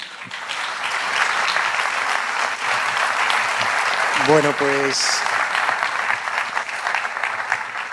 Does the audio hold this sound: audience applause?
yes